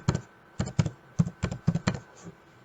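Keystrokes on a computer keyboard, typed in short clustered bursts of several clicks with brief pauses between, close and fairly loud with no talking.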